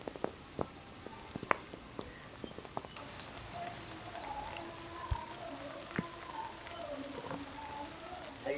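Rain patters and drips near an outdoor country kitchen, with scattered distinct drops over a soft wash and a quiet voice speaking in the background.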